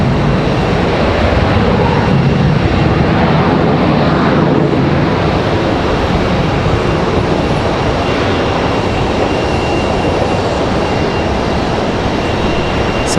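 An airliner slowing down on the runway after landing at Raleigh-Durham airport fills the air with a loud, broad, steady roar of engine noise and rushing air. It holds steady throughout with no talking.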